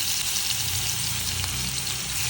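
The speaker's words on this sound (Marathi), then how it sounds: "आता इथे तेल तापलेलं आहे. मी हे अद्रक लसूण जो ठेचून टाकले ते टाकते." Crushed ginger and garlic dropped into hot oil, a loud, dense, continuous frying sizzle that holds steady throughout with no voices.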